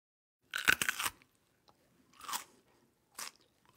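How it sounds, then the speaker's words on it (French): Someone bites into and chews a crunchy fresh cucumber: three separate crisp crunches close to the mic, the first loudest, with silent gaps between them. "Ça croque les concombres."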